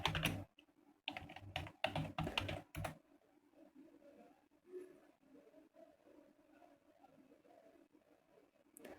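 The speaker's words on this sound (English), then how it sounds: "We can type our query here" Keys clatter on a computer keyboard as a search query is typed, several quick bursts of close, crisp clicks in the first three seconds, then a quiet room with only faint background noise.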